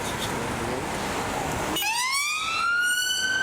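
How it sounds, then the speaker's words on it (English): A wailing siren rises sharply out of steady traffic rumble, sweeping upward and holding loud and fairly close. "There's the sirens around."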